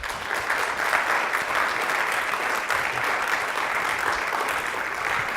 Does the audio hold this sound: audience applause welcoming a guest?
yes